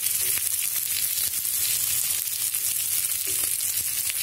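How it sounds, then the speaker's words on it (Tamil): Chopped vegetables sautéing with a pinch of salt in a pan for masala Maggi noodles, giving a steady close sizzle and frying hiss throughout with occasional faint stirring scrapes. "இதை நம்ம கொஞ்சம் உப்பு போட்டு கொஞ்சம் வதக்கலாம்"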